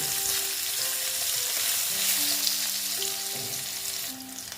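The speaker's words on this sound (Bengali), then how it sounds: "এখন আমি এখানে একটু হলুদ অ্যাড করলাম করে আলুগুলো আমি সিক্সটি পার্সেন্ট ভেজে নেব" Potatoes with turmeric sizzling briskly in oil in a pan, a dense, close frying hiss with stirring and scraping throughout, no one speaking.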